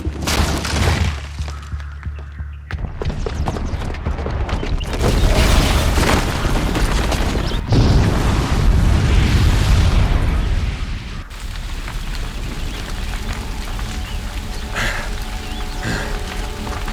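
A bomb explosion in the Horizon Zero Dawn video game, set off by a booby trap, erupts as a loud, sustained booming roar with crashing, rain-like debris that rumbles on for many seconds before easing into a lower wash of settling noise.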